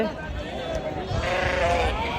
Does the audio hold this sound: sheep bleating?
yes